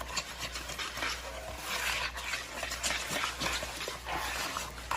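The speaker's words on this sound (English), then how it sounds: "and then we'll whisk that. Whisk that together." Milk mixture whisked in a bowl at close range, a continuous scratchy rubbing of the whisk with a steady rhythmic texture and no talking.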